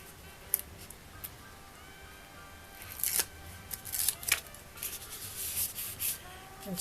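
Scissors snipping the overhanging edge of a gatefold shutter lens paper card, a run of small crisp cuts and rustles close by, sparse at first then quicker and denser.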